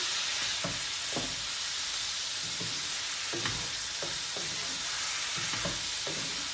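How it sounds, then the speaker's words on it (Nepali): Steady loud sizzling of mutton frying on high heat, with repeated spatula scrapes and stirring knocks cutting through the constant hiss. "अब यसलाई मजाले हाई हिटमा फ्राई गर्ने।"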